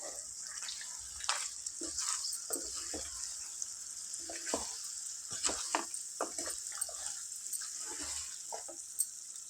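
Spiced chicken curry frying in a pan while a spoon stirs it after chili powder goes in: a steady bright sizzle with frequent scraping clicks and taps from the stirring.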